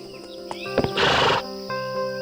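A horse ridden by a tourist gives a short, loud whinny in the middle of a narrated animated children's story, set against a steady background music bed.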